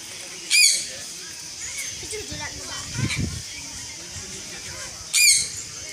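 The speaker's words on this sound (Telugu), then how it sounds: "ఇది వచ్చేసి సూర్యకాంతి చిలుక." A sun conure parrot at Tirupati zoo gives two shrill, piercing squawks several seconds apart, with people talking quietly in between.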